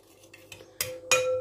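A spoon stirs a spoonful of butter into a baklava mixture in a bowl, with a few soft clinks followed by two louder, ringing scrapes against the bowl, close by and with no talk.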